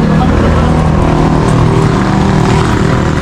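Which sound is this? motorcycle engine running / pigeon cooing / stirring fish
motorcycle engine running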